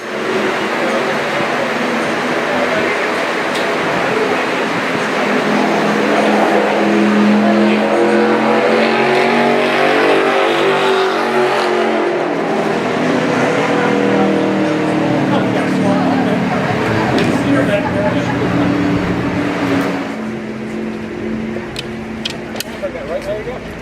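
A NASCAR race car drives on the track at a fan-driving attraction. Its engine roars loud and steady throughout, with the pitch sweeping up and down as it accelerates and shifts.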